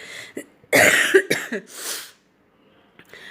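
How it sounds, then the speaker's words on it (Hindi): A close, harsh fit of coughing, several rough coughs in a row followed by a quiet pause and a faint breath. "मुझे खांसी बहुत ज़्यादा है"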